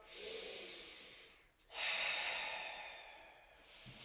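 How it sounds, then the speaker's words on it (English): A deep breath in and a long breath out during a wall workout class, close and airy breaths with a brief pause between inhale and exhale, then a faint snuffle at the end. "take a nice deep breath. Inhale, exhale"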